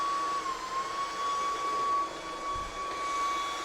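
A Shark pet vacuum running in boost mode on a hard floor gives a loud, steady motor roar with a high whine, continuous and close, with no talk.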